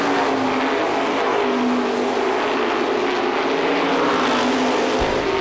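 350 supermodified race cars lapping at Lee USA Speedway, a loud sustained engine roar at close range with a droning pitch, no talk.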